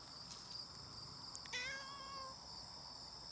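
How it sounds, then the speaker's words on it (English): A cat in a vegetable garden gives one drawn-out meow partway through. Faint insect chirping and a soft outdoor hiss run steadily underneath. "That's my cat."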